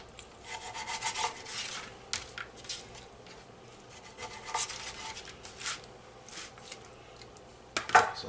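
Chicken legs and thighs are cut into stew-sized pieces on a board, faint rubbing and rasping strokes with scattered knocks and a louder clatter near the end, and no voices.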